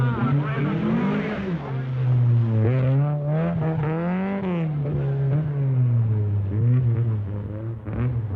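A 1981 Opel rally car runs a stage in the Rothmans RAC Rally Championship, its engine droning loud and steady throughout with repeated rises and falls in pitch as it revs and shifts.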